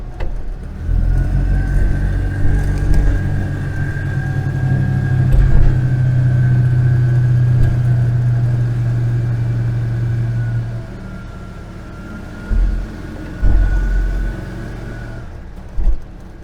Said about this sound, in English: Still doesn't sound like the revs are coming up to quite where they need to be.